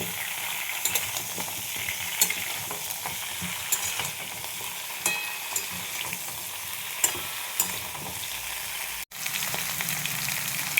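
Mixed vegetables including papaya and drumstick for shukto fry in oil, giving a continuous busy sizzle with scraping stirs and light clinks, close and alone, with a brief break near the end.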